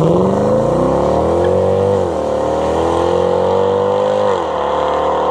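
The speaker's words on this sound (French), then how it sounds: "Donc là on va faire un départ arrêté, c'est parti." A luxury limousine accelerates hard from a standstill, its engine loud and close, rising in pitch with two brief dips as it shifts gears, with no talking.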